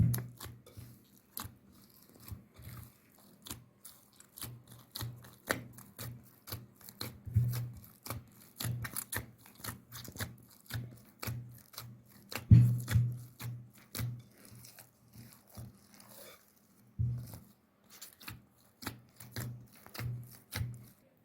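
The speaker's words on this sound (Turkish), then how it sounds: "Onunla hamurumu iyice toparlayacağım" Dough mixed with a spoonful of oil is kneaded by hand, producing soft, irregular sticky slaps and squelches at a close distance, with short pauses between presses.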